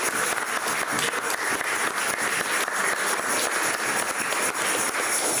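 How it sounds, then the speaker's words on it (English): An audience at a spring peace action gathering applauds Kathy, giving a sustained, fairly loud round of clapping with individual claps popping through the dense, even wash. "let's have a round of applause for Kathy"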